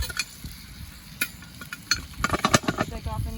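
Food is scooped out of a Dutch oven on an outdoor cooking fire while bacon sizzles, with scattered metal scrapes and clinks of a utensil against cast iron that grow busier toward the end.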